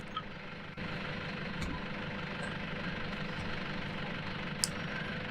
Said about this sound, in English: I think I'll just bring the tractor out into the yard a little bit, so we just put the brake on